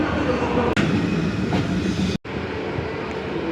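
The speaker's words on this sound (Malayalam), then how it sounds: "അങ്ങനെ ഈ ട്രെയിൻ സ്റ്റാർട്ട് ചെയ്തു." Inside the Mangala Lakshadweep Express starting to move: a steady rumbling roll with a few clanks and brief breaks, fairly loud and continuous.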